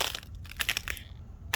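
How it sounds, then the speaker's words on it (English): Defrosting ice crunches underfoot in Louisiana after an ice storm, with several close, crisp crushing steps in quick succession and no talk. "You hear that crunching?"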